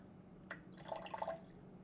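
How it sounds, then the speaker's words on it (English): Lukewarm water poured into a jar of sourdough starter, a short faint trickle and a few soft drips that start suddenly and fade within about a second, heard alone. "So we're going to go ahead and pour 40 grams of water in here again."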